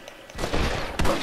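Springfield rifle fire in the Red Dead Redemption video game during an outlaw shootout, two sharp gunshots about half a second apart, close and loud with a short echoing tail.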